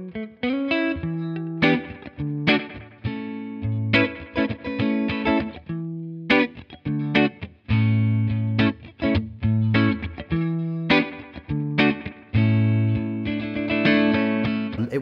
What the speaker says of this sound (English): set the effect level fairly low, so you're trying to kind of mask the sound of the individual repeats and try and get more of a wash of echoes